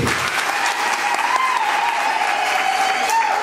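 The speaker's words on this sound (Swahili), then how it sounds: "Naomba tuwapigie makofi mazuri." Sustained applause from an audience at the launch event for Alex K, a dense steady clatter of clapping hands that holds loud and even throughout, with a faint voice riding over the crowd.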